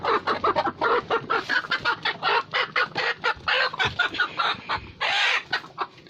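Country hens clucking close by, a dense run of short repeated clucks and squawks with a louder call near the end, no voices.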